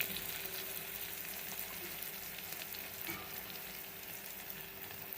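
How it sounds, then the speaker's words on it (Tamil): Chopped onions fry in a pan for black chana biryani, producing a faint, even sizzle that runs unbroken alone, with a thin steady hum underneath. "வெங்காயம் நல்லா வதங்கட்டும்."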